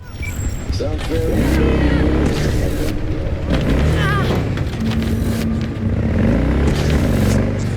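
A car engine in the Cyberpunk 2077 game, a loud roaring drone that revs and shifts pitch as the vehicle drives, running continuously with someone talking over it.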